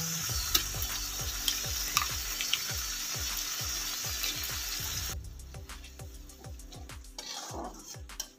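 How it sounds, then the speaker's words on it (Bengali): Tomato frying in a pan as ginger, garlic and green chilli paste goes in for an egg bhurji curry: loud steady sizzling with repeated rhythmic scraping stirs and clinks of a utensil, the sizzle quieting toward the end. "এবার আমি আদা, রসুন আর কাঁচা লঙ্কার পেস্টটা দিয়ে দিচ্ছি"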